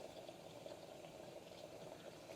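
Water heats to a boil inside a home espresso machine, giving a steady bubbling hiss with a low simmering rumble, moderately quiet and continuous, with no voices.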